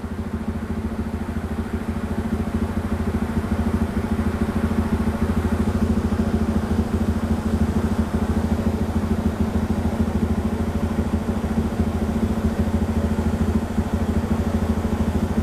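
A bored-up Honda CRF motorcycle engine runs steadily and loudly at a constant idle-like pace during tuning, with a low droning hum and faint mechanical clatter throughout, no voices.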